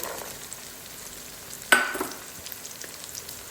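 Green peas tipped into onions frying in a pot for veg pulao, producing a sudden sharp burst of sizzle midway over a low steady frying hiss that then settles back down.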